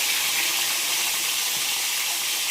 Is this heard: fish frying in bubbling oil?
yes